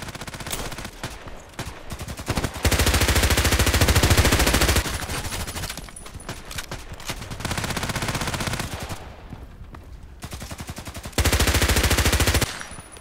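Kriss Vector SMG firing in Contract Wars, loud rapid automatic bursts of varying length separated by short pauses, with sustained streams of fire in the middle and near the end.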